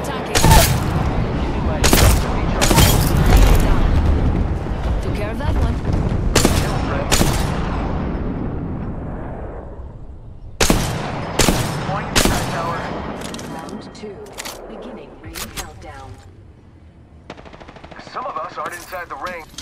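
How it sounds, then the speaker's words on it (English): Enemy gunfire in the shooter game Apex Legends: loud bursts of rapid automatic fire in repeated volleys, with gaps and fading echoes between them and a quieter stretch of game noise near the end. "The enemies are shooting at me."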